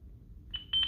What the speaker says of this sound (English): Fire alarm. Second floor. Smoke detector.